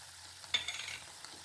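Cooked greens tossed with grated coconut in a pan: a brief close scrape and stir with a soft sizzle, short and faint, with no talk.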